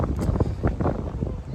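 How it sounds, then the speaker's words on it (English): Strong wind buffets the microphone outdoors, a steady low rumble with gusty swells throughout. "it's really windy though"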